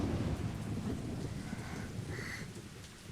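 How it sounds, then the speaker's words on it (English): A thunderstorm with heavy rain from the game Higurashi When They Cry, a dense low roar of rain and rumbling thunder running steadily throughout, with no voices. "There was a fierce thunderstorm in the evening, just as I'd predicted."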